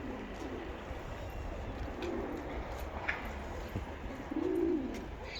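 Tumbler pigeons coo softly in a few low, rolling calls against a steady background hum, heard faint and at some distance.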